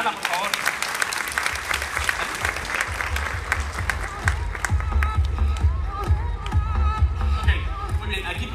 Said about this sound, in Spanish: Un fuerte aplauso para Ana, por favor.